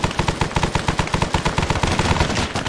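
Automatic gunfire in Arma 3 Vietnam, a loud, close, rapid rhythmic stream of shots fired in sustained bursts with no pauses across the whole stretch.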